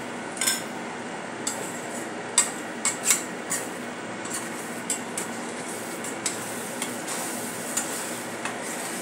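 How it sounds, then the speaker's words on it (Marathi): Egg bhurji is stirred in a pan over a steady low sizzle. A utensil scrapes and taps against the pan in scattered light clinks, soft and close, with no talking. "आपल्याला सतत ढवळत राहायचं आहे, नाहीतर ते तळाला लागेल"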